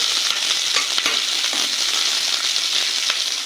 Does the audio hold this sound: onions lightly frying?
yes